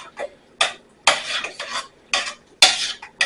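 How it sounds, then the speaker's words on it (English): A utensil clatters and scrapes against a bowl in quick, irregular bursts as sauce with white vinegar is stirred together, close and crisp, with silence between the strokes and no voices. "We'll just mix this to combine it."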